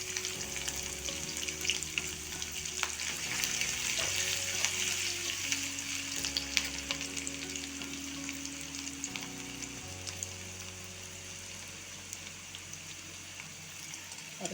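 A steady crackling sizzle of chopped ginger and garlic frying in hot oil, with a faint low hum underneath, no voices.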